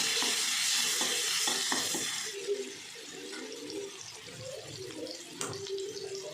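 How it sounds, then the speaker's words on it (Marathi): Ginger-garlic paste being sautéed in a pan for a cauliflower curry, a close hissing sizzle with stirring scrapes, louder at first and then settling into softer bubbling and occasional clinks. "अद्रक लसणाची पेस्ट चांगलं परतून घ्यायचं"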